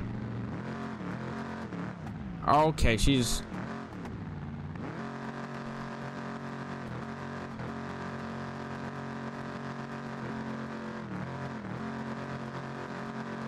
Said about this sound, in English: I've never really ripped this truck with the nitrous